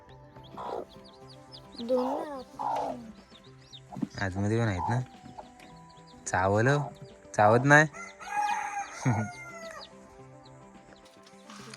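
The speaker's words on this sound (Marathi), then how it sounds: "याच्यात एक कोंबडी आहे" Hens in coops cluck repeatedly in loud, close bursts, with a rooster-like crow rising among them, while people talk intermittently in between.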